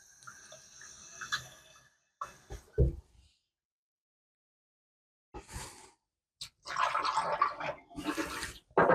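Water poured into a sink and dumped down the drain in a church sacristy, coming in short separate splashing bursts with quiet gaps between them, close by and fairly loud toward the end.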